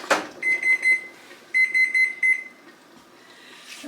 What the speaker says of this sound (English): I'm going to turn the timer off and the burner.